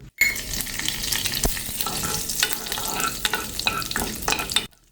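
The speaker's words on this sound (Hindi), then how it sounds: "राई क्रैकल होते ही, एज़ मैंने कहा था, हम इसमें करी लीव्स डाल देंगे।" Dense crackling and popping of mustard seeds frying in hot oil for a tempering, continuous sizzling with sharp sputters, close and fairly loud, no voices.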